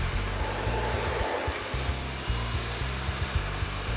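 A hair dryer blows steadily on hair during a smooth straight blow-out, a loud continuous whooshing roar with small brush-movement dips, close up and alone with no talk.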